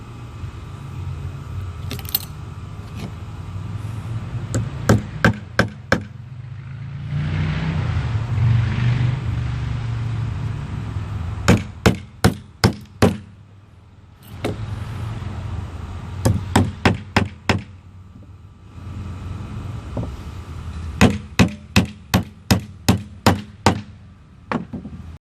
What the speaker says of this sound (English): You want to line it up and go ahead and get you some nails put in it.